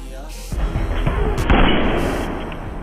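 Gunfire in an action-movie shootout between a former hitman and the mafia: dense, loud bursts of shots and booms pile up under a soundtrack, with a sharp heavy blast near the middle.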